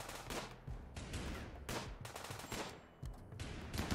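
Gunfire from a firefight in the video game Rimworld, including a submachine gun, rattles in rapid repeated bursts of shots that overlap with one another, at a low overall level.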